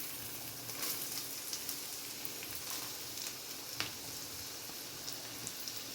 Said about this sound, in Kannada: ಈರುಳ್ಳಿ ಹಾಕ್ಕೊಂಡು ಫ್ರೈ ಮಾಡ್ಕೊಳ್ಳೋಣ.